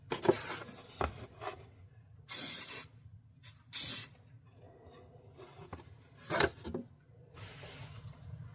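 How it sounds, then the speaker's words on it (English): Rust-Oleum satin finish sprayed from an aerosol can onto a wood-turned umbrella ornament, three short loud hissing bursts spaced apart, with quiet handling noises between them. "I sprayed it with the Rust-Oleum satin finish"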